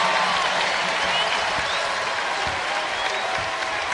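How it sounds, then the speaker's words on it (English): Basketball arena crowd at the Illinois versus Eastern Illinois season opener giving a freshman a standing ovation, a loud, sustained roar of cheering and applause filling the whole stretch. "Listen to this crowd. Oh, wow. Standing ovation for the freshman."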